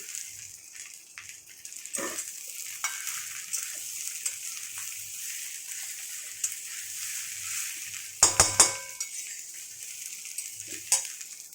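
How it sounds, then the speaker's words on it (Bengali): Fried fish heads tipped into a pan and stirred for a Bengali muri ghonto, giving a steady low sizzle with clattery stirring bursts near the end. "ভেজে রাখা মাথাগুলো আমি এর মধ্যে দিয়ে দিচ্ছি"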